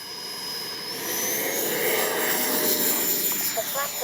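An E-flite 70mm Viper RC ducted-fan jet spools up for takeoff with flaps set, its high whine rising steadily in pitch and loudness, with a person speaking over it.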